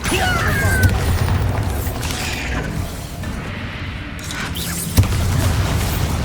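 Bombarda explosion spells blast during Hogwarts Legacy combat, loud booming crashes and rumbling debris, with one sharp hit near the end over continuous noisy battle clatter.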